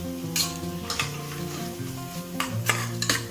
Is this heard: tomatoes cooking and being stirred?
yes